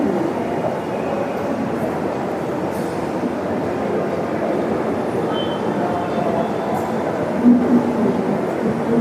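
Kochi Metro train noise at Edappally station, a steady broadband rumble of rail transport that persists evenly throughout with a brief louder bump near the end, no talk.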